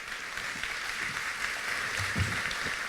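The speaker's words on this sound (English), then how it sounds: "a big round of applause for Sandy Hansen Wolff" Audience applause for a speaker introduced on stage, a steady, moderately faint wash of clapping from a crowd, continuous and without talk.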